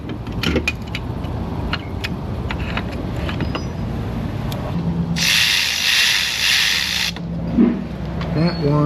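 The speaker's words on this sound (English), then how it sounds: "I'm gonna untighten this one a little more" A hand ratchet loosens a bolt on a car exhaust, with repeated clicking bursts over shop noise and a brief sustained mechanical buzz in the middle, fairly close.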